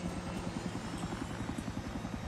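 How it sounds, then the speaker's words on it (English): Helicopter rotor in the Battlefield 3 video game, a steady rapid low thumping chop that holds at even loudness throughout, with no voices over it. "Oh shoot, I got a chopper battle going on."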